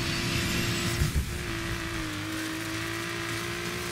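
Car racing flat out in the offroad game Need for Speed Payback, a sustained high engine whine with a steady tonal pitch, a brief thump and bump in the middle, loud and continuous with no voices.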